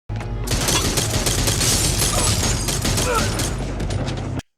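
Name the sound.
gunshots in a TV show scene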